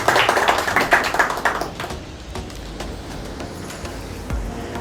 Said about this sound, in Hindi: मैं तालियों से उनका जो है अभिनंदन करना चाहता हूँ